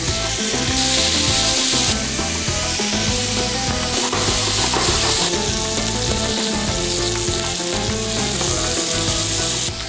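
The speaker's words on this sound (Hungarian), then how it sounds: "bőrös felével lefelé kezdem, mégpedig egy nagyon-nagyon forró serpenyőben" Skin-side-down meat sears in a very hot frying pan, giving a loud, steady, continuous sizzle and crackle with no talk.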